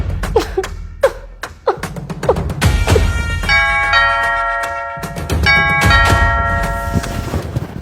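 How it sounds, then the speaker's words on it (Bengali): A household doorbell rings out several clear repeated chimes, following a few sharp knocks, heard fairly close indoors. "এতক্ষণ ধরে কলিং বেল দিলাম, দরজা খুলে না কেন?"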